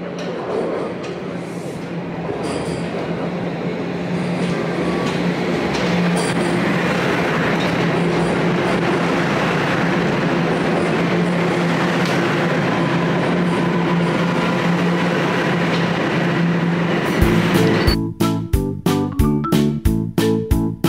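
A train pulls into a station with a sustained loud rumble and wheel noise building, then a rapid rhythmic clickety-clack of wheels over rail joints as it passes close by.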